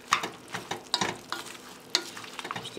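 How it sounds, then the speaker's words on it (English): Pork and sausage browning in a pan for chili, with onions just added, sizzle softly while a spoon scrapes and stirs in several brief, uneven strokes, close by and fairly quiet. "the pork and the sausage are browning up, so I'm just gonna go ahead and add the onions now"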